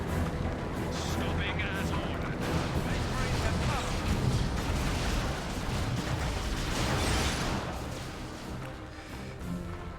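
Twin lascannon fire striking the rear armor of a Predator tank in the Dawn of War 2 Elite Mod game, a dense, continuous roar of blasts and rumbling explosions, loud and sustained for ten seconds with battle noise throughout.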